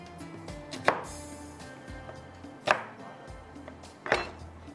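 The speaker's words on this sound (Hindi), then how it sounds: "इतनी तेज़ी के साथ ये फटाफट एकदम से चॉप कर लेता है" Three sharp chopping bursts spaced evenly apart, a kitchen chopper cutting vegetables over a low background hum.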